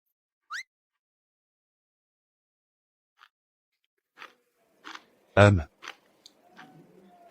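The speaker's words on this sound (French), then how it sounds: "Tenez, prenez une bouchée de concombre." Someone bites into a fresh cucumber with one loud, crisp crunch, preceded and followed by scattered small clicks and soft chewing noises, close and otherwise quiet.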